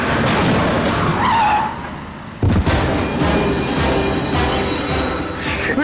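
A car skids with a harsh tire screech and then a sudden loud impact crash into a two-wheeler, followed by rattling debris and noisy street ambience.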